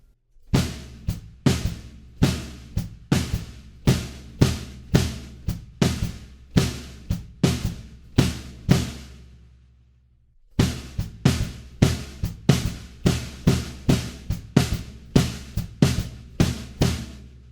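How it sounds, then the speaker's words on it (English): Drum kit groove on kick, hi-hats, floor tom and snare from a drum part: steady, punchy, repeated hits in a driving pattern, close and loud, with a brief pause around the middle before the rhythm resumes, no talking. "we're going to grab those hits on the floor tom and snare drum"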